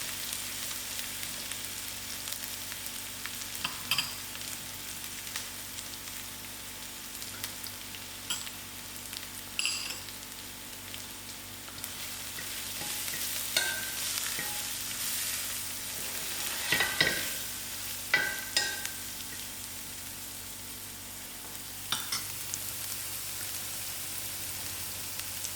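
Mince frying in a pan with masala spices while being stirred, a steady soft sizzle with scraping and clinking stir strokes now and then, fairly quiet and close, no talking.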